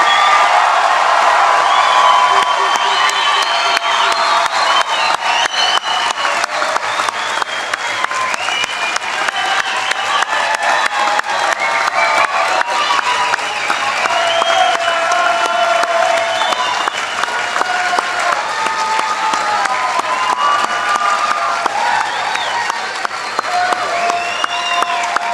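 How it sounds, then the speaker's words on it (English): A large commencement audience applauds graduates, sustained and loud throughout, with scattered cheers and whoops rising over the dense clapping. "Feel free to give them a round of applause."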